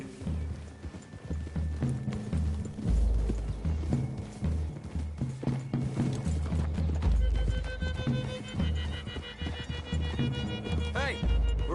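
Horses' hooves clip-clop through a wooded clearing in a Western setting, a steady, moderately close patter with occasional heavier thuds and a faint whinny, under low voices and background sound.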